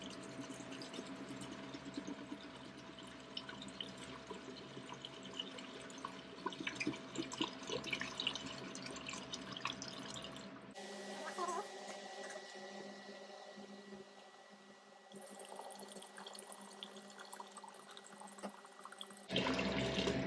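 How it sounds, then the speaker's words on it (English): Isopropyl alcohol is poured into the wash station of an Elegoo Saturn resin printer setup: a steady, fairly faint trickle and splash of liquid that shifts in tone partway through, with no talking. "Let's go ahead and pour in this isopropyl alcohol."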